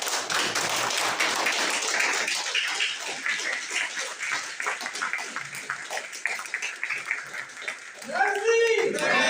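Dense, steady clapping from a crowd fills the whole stretch, loud and continuous, with voices mixed in and a brief whistle-like sound near the end.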